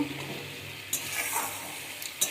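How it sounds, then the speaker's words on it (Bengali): Eggplant cooked with mustard paste being stirred in a pan over low heat, a soft steady sizzle with a few scraping touches of the spoon, close and fairly quiet, with no talking. "তো ভালো করে নাড়াচাড়া করে নেব"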